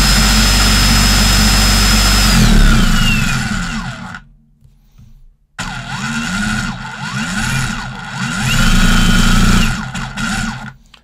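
A Bosch SDS rotary hammer drill roars loudly and steadily, cuts out for about a second, then starts up again with a rising, whining hammering drone.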